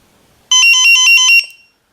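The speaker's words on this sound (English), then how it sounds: "Now you hear the tone. It only rings every approximately 1 minute" An ISDT BG-8S battery checker sounds its low-cell alarm, a bright electronic beeping tone pulsing rapidly for about a second, close and loud against silence.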